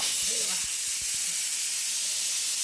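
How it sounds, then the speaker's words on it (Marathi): A pressure cooker vents steam in a loud, steady, close hiss that runs through the whole stretch, with a few faint low knocks in the background and no talk. "माझं कुकरच्या शिट्ट्या चालूच आहे"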